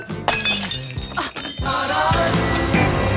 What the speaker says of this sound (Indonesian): lalu tak sengaja Billy menjatuhkan gelas dan tak sadar saat membersihkan pecahan itu